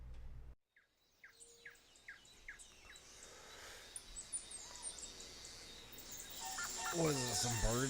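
Jungle ambience of birds played back: repeated high chirps and tweets over a steady hiss, with a louder burst of calls toward the end.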